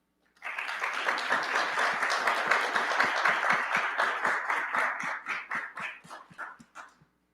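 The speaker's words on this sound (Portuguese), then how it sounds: "Uma salva de palmas para o Celso." Conference audience applauding a speaker at a Brazilian AI and finance event, dense applause for several seconds that thins into a few rhythmic synchronized claps before stopping.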